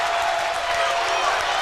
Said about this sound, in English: Beckman crowd didn't like it